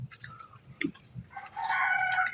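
Rhode Island Red hens close to laying age cluck nearby in short, scattered calls, then break into a louder, drawn-out squawking chorus near the end.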